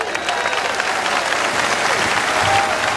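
Enthusiastic applause from a crowd at a theatre show in the Efteling park, thick continuous clapping with a faint voice underneath.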